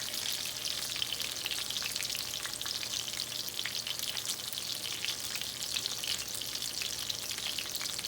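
Chicken cutlets fry in a pan of hot oil for chicken parmigiana, giving a steady, even sizzle and crackle that carries on unbroken at close range with no talking.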